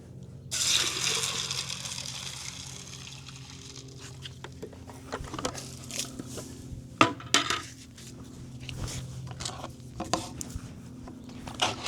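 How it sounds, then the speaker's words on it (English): Gravel and water stirred together in a bucket, with a burst of splashing followed by scattered gritty rattles, clicks and sloshing, close and fairly quiet. "Bucket of gravel, bucket of water. Mix together."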